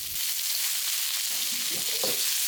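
Shrimp sizzling in a pan with ginger slices for a seafood glass noodle soup: a loud, continuous hissing fry with a few soft clinks and stirring bumps, no voices.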